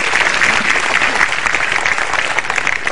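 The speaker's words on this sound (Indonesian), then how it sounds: "Tepuk tangan buat Metro TV." Audience applause at an anniversary stand-up comedy show, a close, loud burst of dense clapping from a large crowd, continuous and steady from start to finish.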